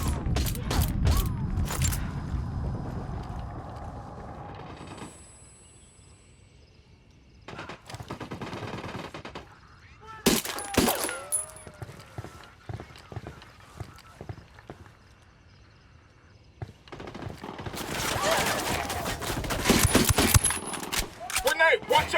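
Gunfire in the video game Ghost Recon Wildlands comes in sharp bursts of rapid shots at the start and again near the end, separated by quieter stretches with scattered clicks, creaks and footsteps, and some voices talking.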